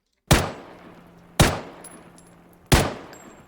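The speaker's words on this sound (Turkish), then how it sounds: "Vurdum bayağı adamı da. Vurdum mu lan ben o adamı?" Gunfire in the video game PUBG Battlegrounds: three loud, sharp single shots, spaced about a second and a half apart, each with a short decaying tail.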